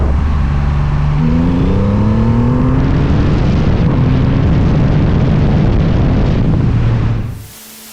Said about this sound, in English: cracking the throttle is unlike anything I've experienced before, so much so that my microphone couldn't keep up